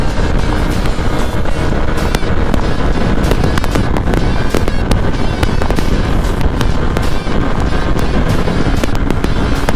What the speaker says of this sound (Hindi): बारिश आ गई, बारिश।